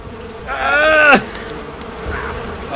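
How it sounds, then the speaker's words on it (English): A loud buzzing swarm of bees in the video game Far Cry 5 swells up close, then cuts off abruptly, leaving a faint background hum. "I'm dead. Bees killed me."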